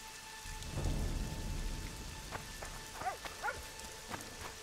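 Steady rain in The Witcher 2: Assassins of Kings patters on a surface while faint rumbles and a few brief chirps come through, fairly quiet overall with no talking.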